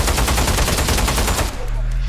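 Rapid bursts of golden gun fire in a VR shooter game, a dense loud volley of shots for about a second and a half, then cutting off into a low hum.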